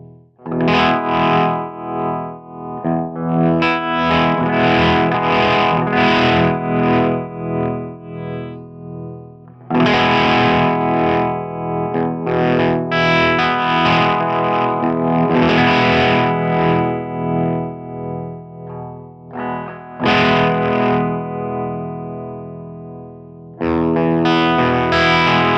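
An electric guitar through a Dark Waves tap tempo tremolo pedal set to full depth, loud distorted chords pulsing and chopping rhythmically, with the sound dropping out in brief gaps between phrases.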